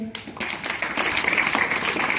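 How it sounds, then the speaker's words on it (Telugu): Children at a Children's Day school event clap together in a brief, scattered burst of applause that builds and stays busy while an adult voice carries on over it. "చప్పట్లు కొట్టండి."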